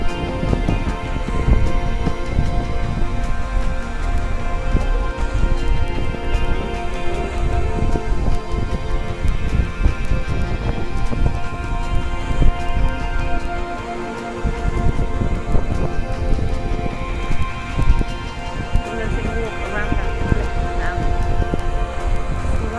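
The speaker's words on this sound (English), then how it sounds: "It's been raining. Come on in. Carry on walking. In the rain." Steady rain patters on a small town street, a dense, even hiss of drops continuing throughout with no talk.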